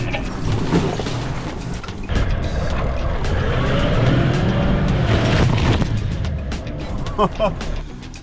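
A 4WD vehicle labours off-road in low gear, its engine a steady, rough, loud rumble with clunks and mechanical knocks throughout and a few short squeaks near the end.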